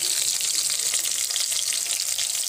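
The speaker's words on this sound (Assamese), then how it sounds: "গোটা জিৰা আৰু পিয়াজখিনি মই অকণমান ভাজি লম।" Cumin seeds and chopped onions fry in hot oil in a wok, giving a steady, dense sizzle close up that carries on without a break.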